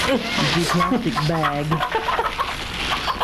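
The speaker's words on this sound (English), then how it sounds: "Chickens, how do they keep getting in here?" Chickens cluck close by in a quick run of short calls, mixed with a person speaking briefly.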